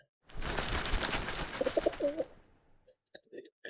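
Coos from a pigeon character in a comedy Valentine's special game segment, a short run of soft throaty calls near the middle, following a stretch of broadband noise and with speech nearby.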